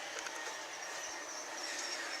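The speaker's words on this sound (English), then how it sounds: "Running my coal train and my 30 tanker train." G scale model trains, a coal train and a 30-car tanker train, rolling along outdoor track in a yard, producing a steady, even rushing hiss with faint rail clatter and no talking.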